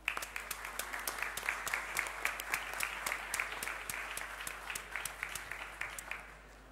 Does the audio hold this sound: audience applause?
yes